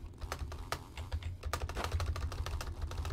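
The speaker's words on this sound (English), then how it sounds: "I don't know how loud my keyboard's gonna be, too." Computer keyboard typing while playing the horror game Mad Father, a fast, irregular run of close key clicks and clacks, moderately loud with no talk.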